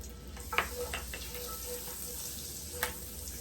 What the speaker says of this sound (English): To our pan, we're gonna add some oil. All right, we're also gonna add some butter.